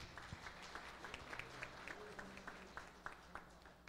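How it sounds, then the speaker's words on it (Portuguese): Scattered applause from an audience at a public hearing on a neighborhood road-paving project, faint and distant with irregular claps and a low murmur of room noise. "Uma salva de palmas."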